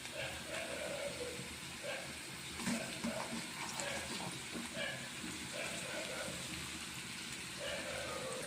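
Okra pieces drop into a hot frying pan with onion and fresh turmeric, giving a steady, close hiss of frying that carries through the whole stretch with small crackles and a faint voice underneath.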